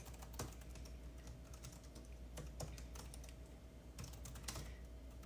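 Keys clatter on a computer keyboard in a quiet room, a steady run of soft close taps with a few sharper strikes, no talking.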